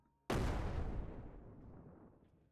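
A grenade blast in the game SurrounDead: one sudden loud boom that rolls off into a long fading rumble, with no talk.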